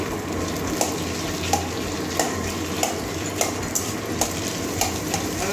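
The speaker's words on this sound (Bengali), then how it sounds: "এখন এটা আমি শুধু পেঁয়াজ কাঁচা লঙ্কা দিয়ে ভেজে নিচ্ছি।" Onion and green chili frying in a pan for stuffed pointed gourd: steady sizzle with regular light metallic clinks of a spatula stirring against the pan, close and unaccompanied by talk.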